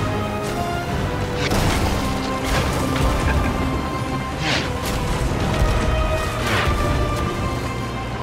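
Ship cannons firing in the pirate game Sea of Thieves, several heavy booming blasts spaced a second or two apart over rumbling, crashing background noise.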